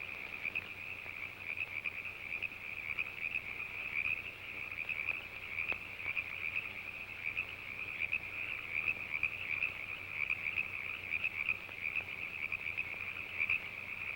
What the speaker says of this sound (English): He's only a frog.